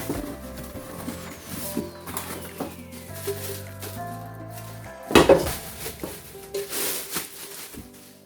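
MichaelAngelo cookware pots and lids are handled and set down, soft clinks and scrapes of metal and a sharper clatter in the middle, close by and quiet with no talking.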